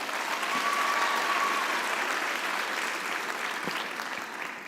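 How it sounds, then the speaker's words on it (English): Sustained audience applause at a university graduation ceremony, a broad steady wash of many hands clapping that holds evenly for several seconds before easing slightly toward the end. "I think that deserves a round of applause."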